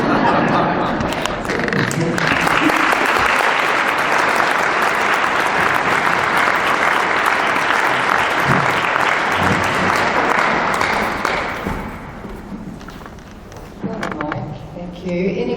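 Sustained audience applause at the close of a talk by Mike King, loud and dense for about eleven seconds before thinning into scattered claps and murmuring.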